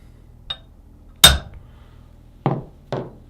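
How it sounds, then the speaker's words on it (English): Four sharp metallic strikes of a hammer driving a 5/16 punch against a Thompson Center Encore/Contender rifle forearm fitting, irregularly spaced, close and clear over a quiet background. "If you take a punch, a little bit oversized punch, this is a 5/16, and you whack these back down"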